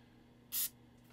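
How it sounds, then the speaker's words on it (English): A single short hiss of activator sprayed from an aerosol can while building smoke devices, a quick burst lasting a fraction of a second against a quiet background. "I'm just going to spray activator."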